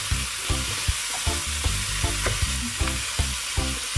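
A spoon stirs coconut milk in a hot pan for creamy crab, loud and close, with a steady sizzle and regular clinking knocks of the utensil against the pan about twice a second, and no voices.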